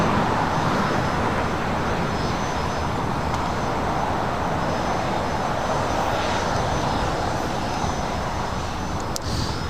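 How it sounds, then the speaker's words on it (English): A United Boeing Dreamliner taking off from runway 25 right at Los Angeles airport, a loud continuous engine roar that stays steady and dense for the whole stretch. "And speaking of United Dreamliners, we got one taking off on 25 right."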